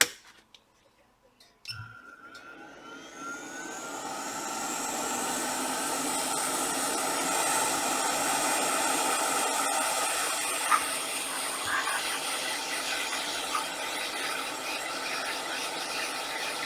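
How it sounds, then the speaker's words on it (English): Hot air tool blowing to dry a cleaned Intel CPU socket, starting with a sharp click and then building into a steady, close, whooshing roar that continues to the end with small knocks. "Let me dry it a little bit with the hot air."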